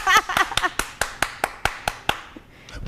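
About a dozen sharp hand claps in a quick, steady rhythm, fairly close and clear, with a brief voice at the very start and the claps fading toward the end.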